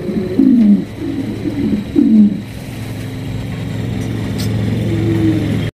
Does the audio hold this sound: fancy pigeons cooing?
yes